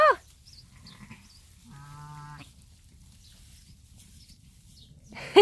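An older Norfolk Horn ewe bleats once, a clear harmonic call in the middle, with quieter farm ambience and a louder voice at the start and end.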